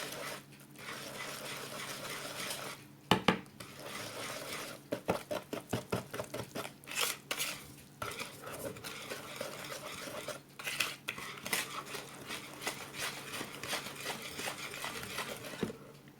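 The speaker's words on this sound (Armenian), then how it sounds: "նորից խառնում ենք զանգվածը" A spoon or whisk stirs banana cake batter with milk and vegetable oil in a bowl, giving steady close scraping and sloshing with a burst of quick rhythmic taps in the middle, alone with no voices.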